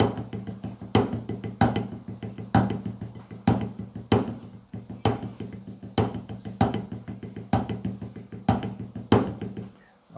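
A drum phrase played with rebound strokes: sharp, evenly spaced strikes with quick bouncing follow-up notes in a steady repeating rhythm, close and clear with no talking.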